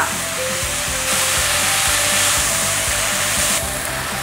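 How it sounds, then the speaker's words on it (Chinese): Vigorous wok stir-frying after soy sauce and doubanjiang bean paste hit the hot pan, a steady loud sizzle and hiss with quick scraping and tossing strokes repeating underneath, no voices. "呛入2汤匙的酱油，半汤匙的豆瓣酱，快速的翻炒"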